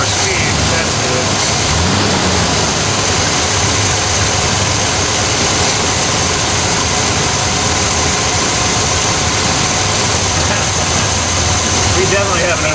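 A 1968 Chevrolet Malibu V8 with a Quadrajet carburetor idles at low speed, running rich, with a loud, steady rumble and vibration throughout.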